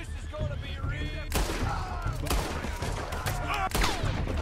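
Gunfire in Red Dead Redemption 2, with sharp shots standing out loudly over dense game background noise and music, one landing as a headshot, several reports spread across the stretch.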